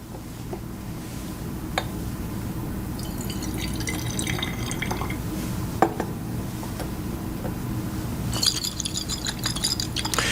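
Lime water is poured into a glass flask of air, giving a faint trickle with small glassy clinks, then a brighter splashing pour near the end, close and alone.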